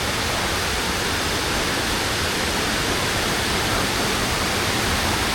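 A rain-swollen stream rushes along a village road during heavy monsoon rain, a loud, dense and unbroken roar of water throughout, no voices.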